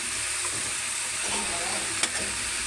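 Pumpkin pieces fry in hot oil in a pan, giving a steady, close sizzling hiss with a brief stir or clink partway through.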